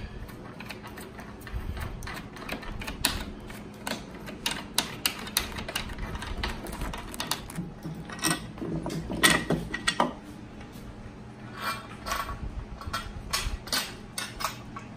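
Pin wrench turning on a new Catwoman Premium pinball machine during setup, giving irregular bursts of sharp metallic clicks and taps over a steady low background hum, close and moderately loud throughout.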